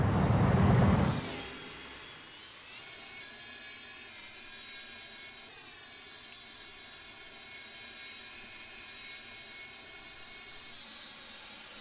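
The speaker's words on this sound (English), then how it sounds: "the reversers sounded really good" An ERJ-145 jet landing at Key West: a loud, rushing roar from the thrust reversers for the first second or so, then falling away to a steady, high engine whine heard from inside the cabin.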